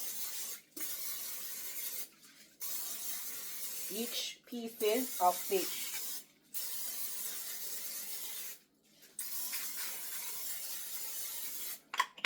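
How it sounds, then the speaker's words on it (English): Repeated bursts of hissing cooking oil spray onto fish, several seconds each with short pauses between, close by, with a brief spoken phrase partway through. "I'm going to just spray the top of my fish also"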